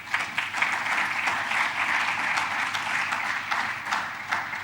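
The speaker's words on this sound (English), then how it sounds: "let's just give a round of applause to these presenters" An audience claps warmly in sustained applause, individual claps audible in a lively, even patter from start to finish.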